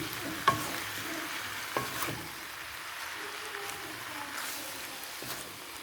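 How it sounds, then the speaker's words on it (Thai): Sour bamboo shoots and pork neck stir-fry in a pan with a soft, steady sizzle, punctuated by a few scraping knocks of the utensil. "นี่เราก็คั่วนิดนึงจนค่อยเอาน้ำใส่"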